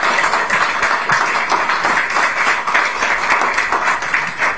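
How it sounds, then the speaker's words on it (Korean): Crowd applause at a political party launch ceremony in Korea, many people clapping in a steady, rolling wash with slight pulsing swells, loud and continuous throughout. "손박수 부탁드립니다."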